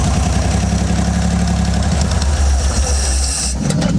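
A 1969 Spartan 155hp marine engine idles steadily at about 1,000 rpm, a loud, continuous low rumble with a throbbing mechanical rhythm, close by and alone, shifting slightly in tone near the end.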